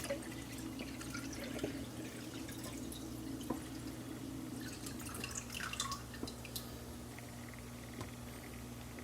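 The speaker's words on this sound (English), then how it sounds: "Right now I'm putting water in it." Water runs into a container in a faint, steady trickle with scattered drips and splashes over a low background hum, heard quietly and alone for several seconds.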